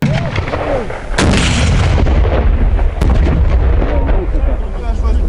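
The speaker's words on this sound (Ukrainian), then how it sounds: "Одне із завдань постріли по мішені з ручного протитанкового гранатомету" A heavy blast from a hand-held anti-tank grenade launcher fired at a target during training booms loudly, followed by a long rumbling roar, with voices talking over the noise.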